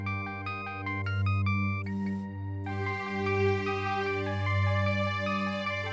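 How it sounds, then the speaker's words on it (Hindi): A phone ringtone plays a bright electronic melody, repeating its tune close by over a steady low hum, with no one speaking. "अब इस वक्त किसका फोन है?"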